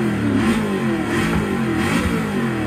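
A 2016 Chevrolet Camaro engine in Forza Motorsport 6 revs hard and steadily, a loud, close, continuous mid-pitched roar with rising and falling pulses across a few seconds, and no voices.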